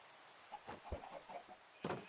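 Minecraft chickens clucking in a few short, soft bursts over a faint rain-like hiss, with no talking.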